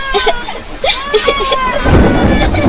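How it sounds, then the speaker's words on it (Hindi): Rain falls with rumbling thunder in a storm, a dense hiss that swells and grows heavier toward the end, with voices talking over it at the start. "बारिश रुकने का नाम ही नहीं ले रही थी"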